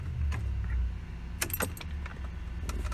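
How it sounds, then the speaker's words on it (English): The ignition key of a Corvette Z06 with a no-start fault jangles and clicks as it is turned to crank, followed by faint, scattered clicks and a low background hum. "I'm gonna go ahead and attempt to crank this thing"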